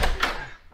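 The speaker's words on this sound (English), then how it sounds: "I'm going to open the door and take a look." A door opening as a radio drama sound effect: a single short wooden thunk and rattle up close, fading quickly into quiet, with no voices over it.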